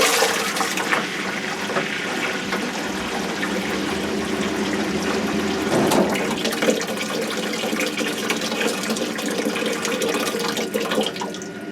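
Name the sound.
Rinnai tankless water heater running, airflow noise after opening valve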